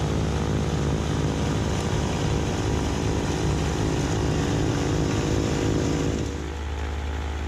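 Kubota B2601 compact tractor running a snow blower attachment, a loud, steady, buzzing engine drone with a whirring blower that holds constant and then dips slightly near the end, with no voices.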